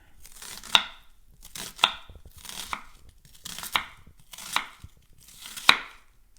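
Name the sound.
knife chopping a vegetable up to the root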